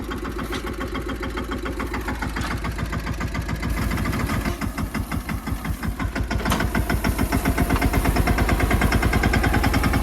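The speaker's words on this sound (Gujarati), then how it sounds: "તો મિત્રો કેમ હાલે ટ્રેક્ટર કમેન્ટ કરજો. અને આ મિની ટ્રેક્ટર છે" A four-wheeled mini tractor's engine runs close by in a groundnut field, a steady rhythmic chugging knock that grows slightly louder and faster toward the end.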